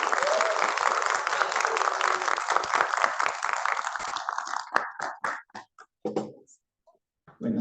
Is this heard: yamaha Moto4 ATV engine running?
no